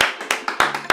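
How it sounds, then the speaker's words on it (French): Hand clapping in a nearly empty apartment during a move, six sharp claps in an uneven rhythm, close and fairly quiet. "applaudis, applaudis"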